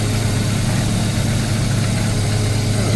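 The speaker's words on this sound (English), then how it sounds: "it seems to be idling nice and smooth" A Mazda RX7 FC rotary engine idles smoothly and steadily, a loud, close, even drone with a low throb and mechanical hum that never changes pace, with no voices over it.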